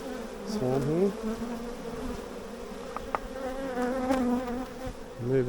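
A honey bee swarm clustered on a cut branch hums with a steady, close buzz throughout, individual bees whining past the microphone with rising and falling pitch.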